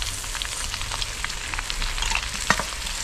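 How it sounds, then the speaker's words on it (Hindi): Ground chickpeas sizzle and fry in a pan with vegetables for a chickpea nimona, a steady crackling hiss with scattered pops and one sharper snap near the end, heard up close with no voices. "पीसा हुआ चना मैंने इसमें डाल दिया, इसको अच्छे तरीके से भून लेते हैं"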